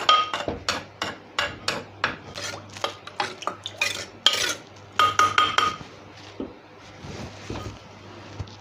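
Repeated hard pounding thuds of a pestle coarsely crushing ingredients for a mushroom curry in a mortar, rhythmic and close, with clacking and scraping between strikes, slowing toward the end.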